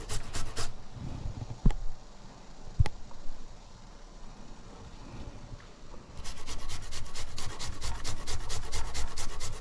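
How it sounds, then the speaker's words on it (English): Fresh ginger root rasped against a fine microplane grater, giving steady close scraping strokes that intensify into a continuous dense rubbing texture in the second half, with a couple of sharp taps early on. "You just have to rub it against the microplane."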